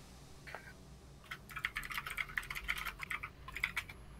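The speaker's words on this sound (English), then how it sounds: "frantically typing to get us the results" Fast, frantic typing on a computer keyboard, a dense burst of quick clicks that starts after a brief pause and carries on steadily at a fairly soft level.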